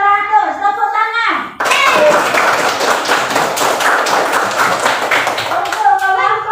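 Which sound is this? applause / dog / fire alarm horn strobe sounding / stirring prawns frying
applause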